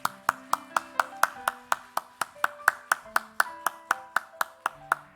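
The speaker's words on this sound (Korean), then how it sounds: "우리가 함께 박수를 나누고자 합니다." A church congregation stands and claps together at a Sunday morning worship service, giving steady, rhythmic handclaps that ring out clearly and evenly for several seconds with no talking.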